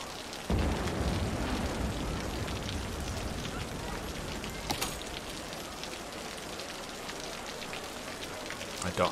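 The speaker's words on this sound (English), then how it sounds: "It's raining, though!" Steady rain falls in the city-building game Cities: Skylines, a constant hiss with a few soft thuds and a brief louder burst midway.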